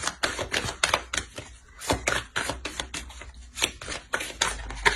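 Tarot cards shuffled and dealt out, a close run of quick irregular taps, slaps and snaps as the cards hit the table and each other, no voices.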